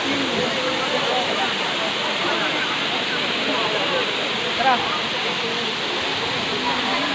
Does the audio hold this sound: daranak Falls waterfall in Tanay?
yes